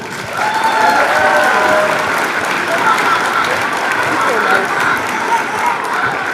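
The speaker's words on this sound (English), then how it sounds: "Let's get a big round of applause for Mrs. Hogan." Enthusiastic crowd applause at an elementary school class play, dense clapping sustained for several seconds with a few voices mixed in.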